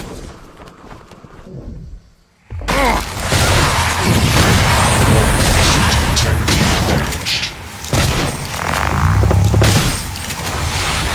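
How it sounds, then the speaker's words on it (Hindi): A shotgun blast erupts in a video game, opening a sustained, loud stretch of booming gunfire and chaotic explosive noise that runs almost to the end, with one brief dip partway through. "तो शॉटगन से ही उड़ाता हूँ मैं।"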